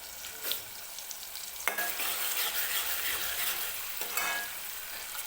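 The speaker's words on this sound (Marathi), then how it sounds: "टोमॅटो व्यवस्थित तेलामध्येच भाजून घेते" Tomatoes frying in oil in a pan for a spicy mutton curry, a steady broadband sizzle with a few sharp stirring scrapes, close and continuous with no talk.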